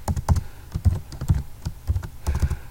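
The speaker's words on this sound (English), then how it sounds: "That's because I'm speaking and typing at the same time." Rapid, uneven clicks and taps of typing on a computer keyboard during a math lecture, close and fairly loud, with short pauses between bursts and no talking.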